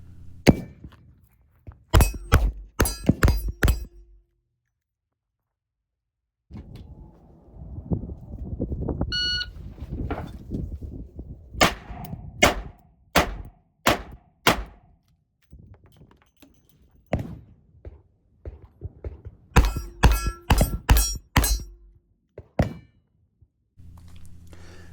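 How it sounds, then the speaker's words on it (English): A Smith & Wesson Model 36-1 snub-nosed revolver is fired outdoors in three strings of about five sharp, loud cracks each, separated by quiet pauses with faint handling noises. "This revolver is an absolute blast to shoot"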